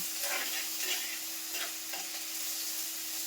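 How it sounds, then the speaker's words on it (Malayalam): Onions sizzle steadily in a hot pan while a utensil scrapes and stirs them in short repeated strokes, close up, with no talking. "നമ്മുടെ സവോളയും കാര്യങ്ങളൊക്കെ പകുതി വഴന്നു വന്നിട്ടുണ്ട്"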